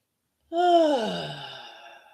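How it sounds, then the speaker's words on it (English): A single deep breath drawn in and then let out in a long, audible sigh during a guided breathing meditation, close and clear with a breathy tone that fades slowly. "Taking a deep breath."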